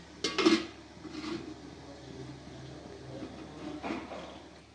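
A lid set on a cooking pot of steamed egg posto over a gas flame, giving a short metallic clatter near the start, then quieter kitchen knocks and a second soft clink a few seconds later.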